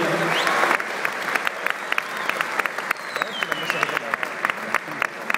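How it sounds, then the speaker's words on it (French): At a Lausanne conference gathering in 2012, the crowd claps for several seconds, sharp individual claps standing out from the steady patter, with faint whistling and murmurs behind. "on peut l'applaudir"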